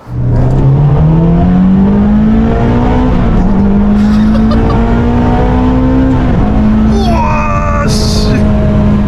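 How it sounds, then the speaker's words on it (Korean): A Ferrari 458 naturally aspirated V8 engine roars loud and close, its pitch climbing and settling as it revs and accelerates over several seconds. "페라리 V8 자연흡기 엔진의 마지막 모델입니다 458"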